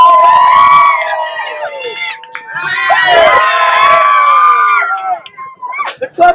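Audience at Robbie's Marina tarpon feeding cheering and shouting loudly together, a sustained crowd roar with children's high yells, dipping briefly then swelling again before fading into scattered shouts.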